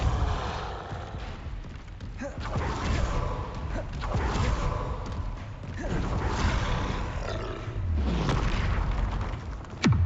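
Spell explosions in a Hogwarts video game: repeated booming blasts and whooshing bursts roll out one after another across the stretch, loud and roomy, with no one speaking.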